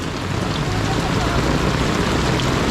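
Heavy, steady rain pours down during Typhoon Carina on a flooded street, a dense unbroken wash of noise with no letup.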